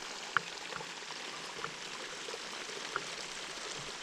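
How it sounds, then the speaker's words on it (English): A stream flows beside a hiking trail in Vermont, a soft, steady wash of running water with a few faint drips and splashes standing out. "There's a nice water source coming out right now."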